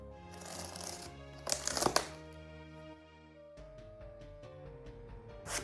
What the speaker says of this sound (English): we're gonna open this box and we're gonna unbox the Catwoman